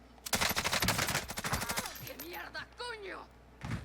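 A Bruen MK9 light machine gun in Warzone fires a close, rapid burst of about a dozen evenly spaced shots, then falls quiet behind whistling in-game sounds.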